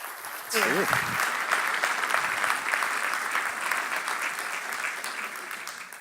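An audience at a talk-event stage applauds to welcome speaker April Luehmann, the clapping starting abruptly and continuing as a dense, fairly close wash that slowly tapers off.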